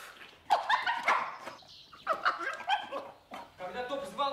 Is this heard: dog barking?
yes